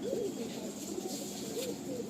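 Compact, small fancy Malwai pigeons coo in soft repeated warbling rolls over a steady background hum, moderately close and continuing throughout.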